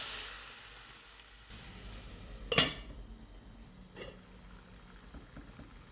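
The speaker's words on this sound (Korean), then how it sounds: "냄비에 올리브유, 마늘, 파슬리 줄기를 넣고 홍합을 넣고 와인을 반컵 부어준 뒤 뚜껑을 덮어 홍합 잎을 벌려줍니다" Mussels steaming in a covered pot with olive oil, garlic, parsley stems and wine: a low simmering hiss with metallic clinks of the lid and pot, one sharper clank midway, and no talk.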